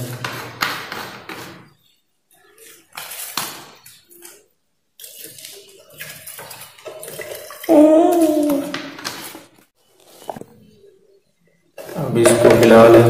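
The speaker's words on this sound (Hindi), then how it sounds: "इसके अंदर अब हम पेट्रोल डालेंगे थोड़ा सा" Petrol poured from a small container into paint and stirred, a wet splashing, sloshing sound in short bursts near the start and end, with a person speaking Hindi in between.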